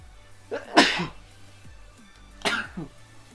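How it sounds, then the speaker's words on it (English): A single loud, close sneeze with a sharp burst, followed a moment later by a second, slightly softer sneeze, with quiet breathing between them. "I have to sneeze."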